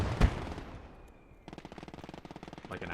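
Rapid, evenly spaced machine gun bursts in the World War II game Gates of Hell: Ostfront, following a sharp close blast, with steady rattling rounds continuing to the end at moderate loudness.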